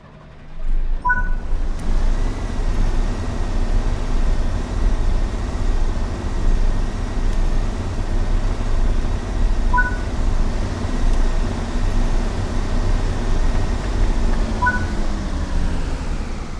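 Deep diesel engine rumble of a video-game diesel multiple-unit train starting its four engines builds and holds steady, a low idling drone with faint higher tones, continuous and fairly loud with no talking.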